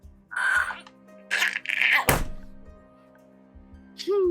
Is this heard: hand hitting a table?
yes